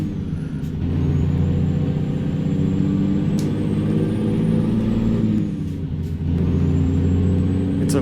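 A Cummins KT-600 diesel engine in a Freightliner Powerliner truck in a driving game, idling steadily and loudly with a deep, continuous rumble, a brief air-brake hiss and a slight rise in revs midway.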